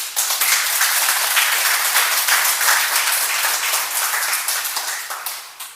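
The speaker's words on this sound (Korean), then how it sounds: "가슴 뛰는 옆에 분에게 박수를 한번 줍니다." A lecture audience claps together in loud, dense, sustained applause close to the microphone, holding steady for several seconds before tapering off quickly at the end.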